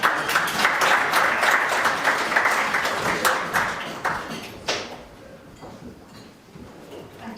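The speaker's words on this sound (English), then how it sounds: "If we could give her a round of applause." An audience gives a round of applause for a councillor at a farewell event for a charity chief executive, with dense, loud clapping that tapers off into quieter scattered claps.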